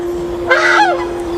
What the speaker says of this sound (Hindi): पालतू बतखें हैं ये।